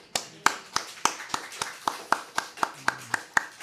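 A Korean church congregation claps at a Sunday worship service: a steady, evenly spaced run of about a dozen crisp claps, fairly close and unaccompanied by talk.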